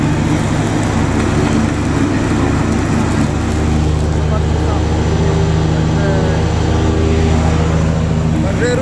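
A Simplicity Broadmoor SLT300 lawn tractor engine drones steadily and loudly while mowing grass, a constant close hum with someone talking over it.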